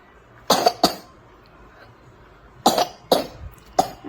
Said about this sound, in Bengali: ছেলেটা খুব কাশছে শুনতেই পাচ্ছি কাশি হচ্ছে